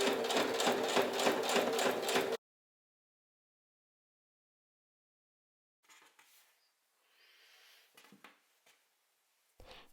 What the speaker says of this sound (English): Then top stitched about 1 mm on the right side of the bodice.